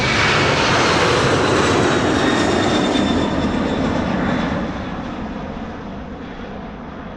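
A DHL cargo plane at London Luton Airport roars loudly and steadily as it passes close by, its broad engine rumble and whine gradually fading toward the end, with no voices.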